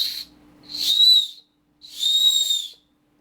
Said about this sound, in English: As you can tell, it has a high decibel whistle.